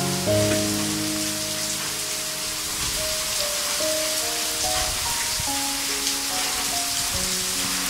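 Steady rain patters on surfaces outdoors in Mangaon, Raigad, a dense hiss throughout, while sustained tonal background music plays over it.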